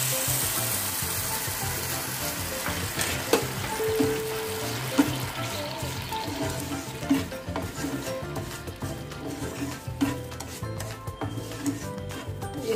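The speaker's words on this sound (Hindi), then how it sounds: "ये चीनी के गलने तक हम पकाएंगे इसे।" Sugar and water cook together in a pan into syrup, giving a continuous soft sizzle and bubbling with occasional stirring scrapes and clinks, steady and close.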